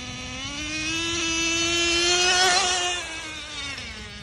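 A Traxxas 4-Tex 3.3 nitro RC truck engine screams steadily at high revs, swelling in pitch and volume as it passes nearby, then easing off.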